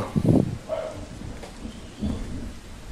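A thunderstorm sound effect: rain patters faintly beneath a few low, rolling rumbles of thunder that swell and fade over a few seconds, with no voices.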